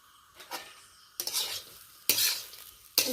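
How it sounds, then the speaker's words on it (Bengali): Spicy semolina upma with peanuts and curry leaves being stirred in a pan, heard as three separate bursts of scraping and clinking, each fading into quiet, with no talking. "সব কিছু ভালো করে মিশিয়ে নিলাম"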